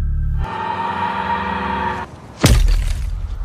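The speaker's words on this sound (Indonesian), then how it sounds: "dia pun menginjak kepala bayi Karen sampai pecah" A doll's head is stepped on and shatters: after a sustained tonal hum, a sudden loud crack and crunch of breaking material bursts out, followed by a brief noisy tail.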